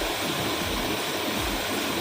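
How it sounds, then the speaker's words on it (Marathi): River water rushes steadily through dense bushes, a close, constant broadband roar with no voices over it. "आतमध्ये तुम्ही बघू शकता पाण्याचा फ्लो बघा किती आहे"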